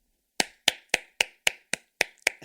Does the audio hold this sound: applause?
yes